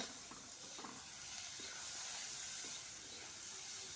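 Frozen peas sauté in hot spiced oil tempering for a homemade samosa filling, giving a steady, quiet sizzle with a few light stirring scrapes and no talking.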